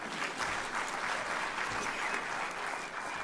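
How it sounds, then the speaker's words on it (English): Graduates at a spring university graduation ceremony clap for themselves, a steady, dense wash of applause from a large seated crowd that holds evenly for the whole stretch without a break. "I thought you would clap hands for yourselves."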